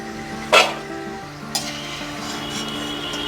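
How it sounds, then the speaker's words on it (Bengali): Crispy Bengali nimki dough pieces fry in hot oil with a soft, steady sizzle under a low electrical hum, broken twice by sharp clatters of a utensil stirring or lifting them. "এভাবে আমি প্রত্যেকটা নিমকি ভেজে নেব।"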